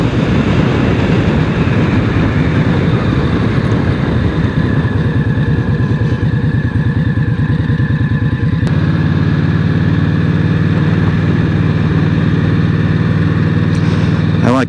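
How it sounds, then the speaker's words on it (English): A 2023 Indian Scout ABS motorcycle on its stock exhaust rumbles steadily and loud throughout, a low continuous engine drone with a slight shift in tone partway through. "I like the sound of the bike."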